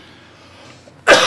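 A single sharp cough bursts out near the end, close and loud, after a stretch of quiet room tone.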